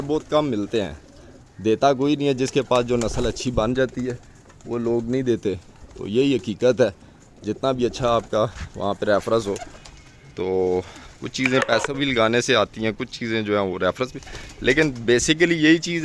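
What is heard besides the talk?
pigeons cooing in a breeding loft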